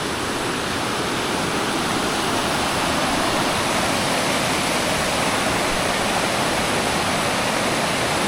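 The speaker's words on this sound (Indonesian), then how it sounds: "Sungai Berbatu" A rocky river rushes steadily nearby, its loud, dense, unbroken roar of flowing water filling the scene with no voices.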